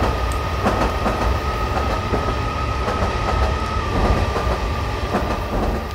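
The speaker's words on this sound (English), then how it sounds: "Great Western Railway train" A Great Western Railway train in the Train Simulator 2018 game runs along at steady speed, with a loud continuous rumble, rhythmic wheel clatter over rail joints and a thin whining tone throughout.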